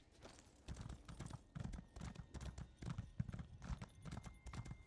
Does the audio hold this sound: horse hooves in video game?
yes